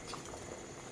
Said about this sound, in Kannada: ಇವಾಗ ಇದು ಕುದೀತಾ ಇದೆ.